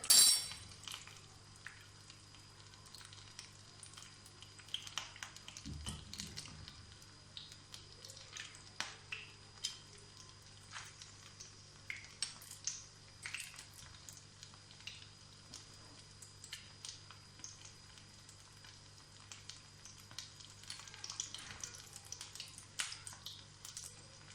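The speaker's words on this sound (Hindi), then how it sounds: "इसके थोड़ी साइड बदला लेते हैं, दूसरी साइड से भी थोड़ी सी हो जाए।" Potato kebabs frying in a pan and being flipped to the other side, a faint steady sizzle with scattered pops and light scraping or clinks, close and quiet with no talking.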